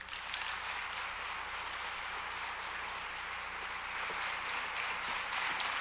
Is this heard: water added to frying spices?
no